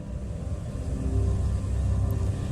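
Deep, steady storm rumble from a Kalbaishakhi nor'wester with a cumulonimbus cloud building, a continuous low roar that swells slightly midway and carries on unbroken with no voices.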